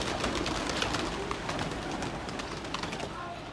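Pigeons coo and flutter close by in a loft where a flock of newly bought birds is kept, soft repeated coos over a dense wash of rustling wings and scratchy movement.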